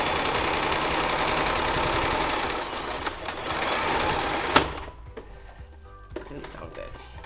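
A sewing machine stitches quilt pieces placed right sides together, whirring steadily and loudly for about four and a half seconds, then stopping abruptly and leaving only faint clicks and handling noises.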